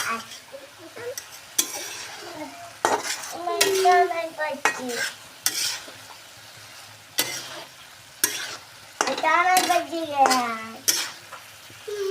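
Meat curry frying in a pan and stirred with a utensil, giving repeated scraping and clattering strokes over a low sizzle, with intermittent voice-like tones breaking in.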